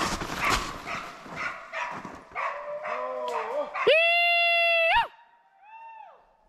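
Several short, distant dog barks and yips during a driven hunt in a forest, followed by a loud sustained tonal whine and a fainter one, with no clear speech.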